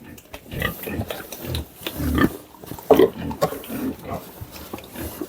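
Piglets eat feed up close, with wet chomping and snuffling mixed with short grunts and squeals in an irregular, busy stream.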